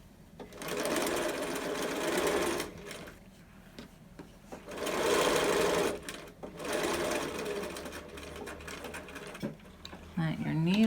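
A sewing machine back stitches a large adult fabric mask in several bursts of rapid mechanical whirring, separated by short pauses for pivoting, close up, with quiet handling noises between runs.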